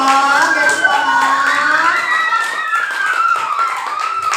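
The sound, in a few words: group of children clapping hands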